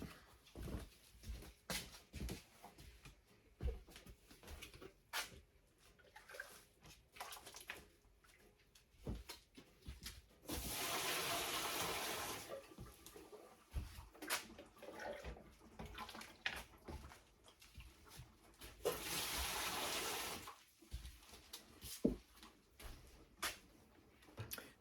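Hot water sloshes and pours out of a water-bath canning pot in a kitchen while satsuma bourbon vanilla marmalade is being canned, two separate bursts of pouring several seconds apart between quiet clinks and faint handling sounds.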